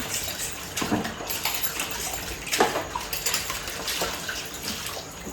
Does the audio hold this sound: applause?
no